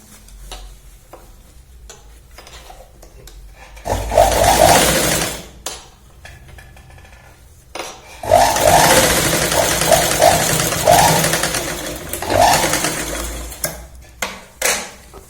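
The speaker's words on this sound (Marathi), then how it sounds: "या पॉइंटला शिलाई लावत कापड पूर्ण फिरवून घ्यायचंय" A sewing machine stitches salwar fabric in several bursts of whirring, several seconds each, separated by quiet pauses while the cloth is turned.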